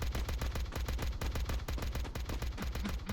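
Rapid automatic gunfire from an AK-47 in the mobile shooter game Free Fire, a steady stream of close, loud shots in quick repeating bursts that run through the whole stretch without pause.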